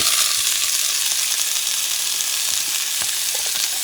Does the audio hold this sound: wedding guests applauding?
no